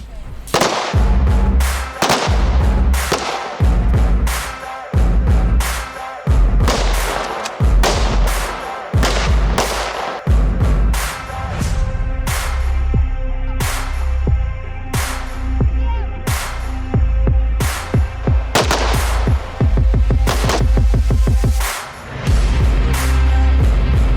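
Rapid gunfire at a shooting range during territorial defence firearms training, with dozens of loud sharp shots in quick irregular bursts and single cracks over about twenty-four seconds, close and continuous with no talk.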